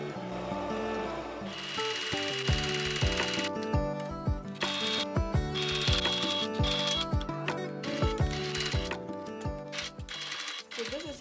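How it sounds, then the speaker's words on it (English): Rapid mechanical stitching of a sewing machine sewing corset seams runs in bursts with brief pauses, over steady background music. "I'm going to take it to the sewing machine and stitch all the areas that have"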